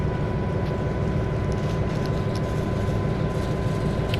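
A CalTrain switcher locomotive's diesel engine revs up under added throttle while moving, a steady low rumble with a mechanical drone and faint clanks, close and continuous with no speech.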